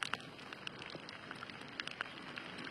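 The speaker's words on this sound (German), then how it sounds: "hier regnet sich's langsam, aber beständig ein." Light, steady drizzle patters beside a campfire, a soft continuous hiss scattered with small faint drop ticks and occasional crackles, fairly quiet and even throughout with no voices.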